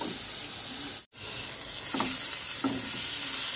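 Chili and chopped tomato hit a pan of reddish fried onions in a home kitchen, a steady close sizzle with scraping stirs around two and two-and-a-half seconds, broken by one brief silent gap.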